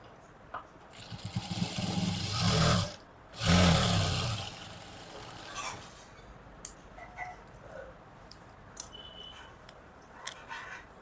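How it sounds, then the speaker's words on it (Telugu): A sewing machine running edge stitches along a heavy blouse, two loud whirring bursts of rapid needle clatter close by, then quieter handling sounds and soft ticks. "ఎడ్జ్ కుట్టు కూడా వేసేసేయండి"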